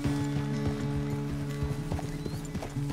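Horse hooves clip-clop in Red Dead Redemption 2, a quick, steady run of near hoof strikes over a low background hum, with no talking.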